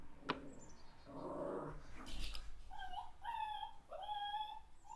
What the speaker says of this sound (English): my dog wants out